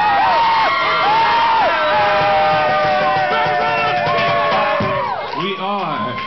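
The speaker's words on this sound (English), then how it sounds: "Everybody finished cheering." A dense crowd at a secondary-school battle of the bands in Yale cheers loudly and continuously, with overlapping whoops, shouts and yells close by.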